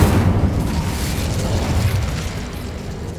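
A conjured Incendio fire spell from the Hogwarts Legacy video game erupts in a loud, sustained whooshing roar with a booming onset that rumbles steadily for about three seconds before gradually easing off.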